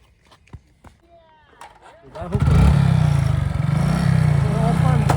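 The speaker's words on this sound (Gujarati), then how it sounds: "બાઈક ચાલે" A motorcycle engine starts up and then runs at a steady, loud drone that continues to the end, with people talking over it.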